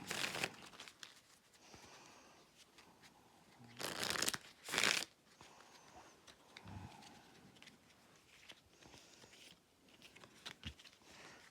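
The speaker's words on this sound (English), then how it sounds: "And you can shuffle them up." A deck of Cahoots game cards is shuffled by hand, soft papery riffles and rustles with two sharper bursts of card noise midway, quiet and close.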